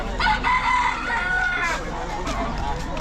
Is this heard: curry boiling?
no